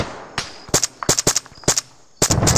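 Bursts of gunfire from the ArmA 3 military video game crack out in quick clustered shots, loud and close, with brief gaps between volleys.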